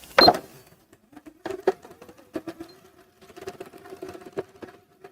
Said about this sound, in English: as the machine gets to the pins, make sure you pull them out